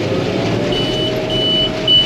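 Steady high-pitched electronic beeps repeat at intervals over a loud, continuous engine rumble, a Gleaner combine harvester's warning alarm while harvesting beans.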